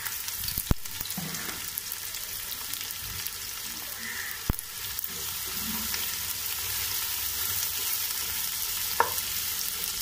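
Onions sautéing in a pan for Kozhikode-style beef biryani, with a soft, steady sizzle and a few sharp clicks of a spoon against the pan, fairly quiet and without speech.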